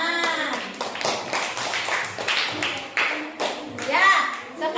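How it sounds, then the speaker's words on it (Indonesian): Schoolchildren clap their hands in a classroom, quick uneven claps mixed with children's voices talking and calling out throughout. "Tepuk tangan."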